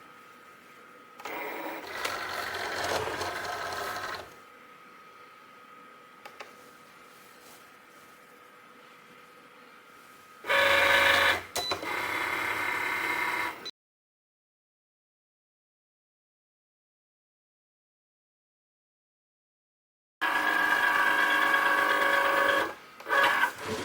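A Cricut cutting machine cuts cardstock in separate bursts of whirring, buzzing motor noise that start and stop between quiet pauses, including one stretch of full silence; nearby and alone, with no voices.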